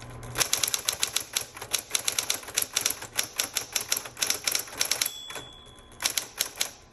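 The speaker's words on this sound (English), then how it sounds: "You heard that bell. That bell tells you, hey, you're at the end of your margin." A 1960s Smith Corona Coronet manual typewriter types in rapid, loud key strikes near the microphone, with a brief pause before a final burst and a clear ring of the margin bell just after five seconds.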